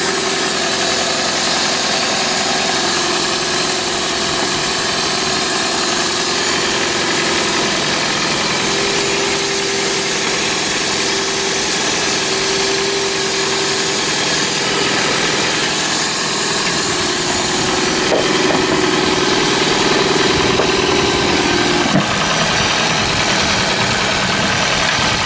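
A Toyota Prius engine idles loudly and continuously up close after being misfuelled with diesel, with a rough vibrating drone and a steady tone that shifts slightly in pitch partway through.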